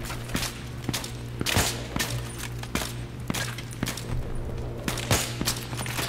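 Gunfire in the Battlefield 3 campaign comes as repeated sharp shots in irregular bursts over a constant low hum, moderately loud and fairly close, without talking.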